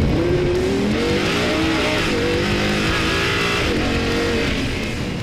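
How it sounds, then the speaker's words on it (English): 2013 Audi R8 coupe on a launch-control full-throttle start, engine roaring loudly and rising steadily through the gears with a touch of tire squeal, continuous and close without speech. "put my foot on the brake, floor the throttle, then release the brake."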